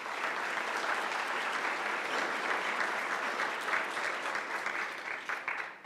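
Sustained applause from an audience at a memorial dedication ceremony, broad and steady for several seconds before starting to thin toward the end, with no voices over it.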